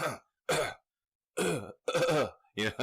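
A voice imitates a cough with five harsh throat-clearing bursts, separated by brief silences, close up and fairly loud.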